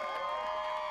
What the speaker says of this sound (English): An expectant crowd waits with anticipation for lead solo rider Alan